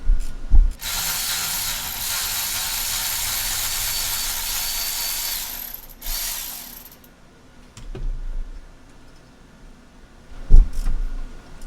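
A ratchet works a seized steel bolt loose during a belt install, several seconds of loud continuous mechanical whirring followed by short clicks and knocks, with no voices.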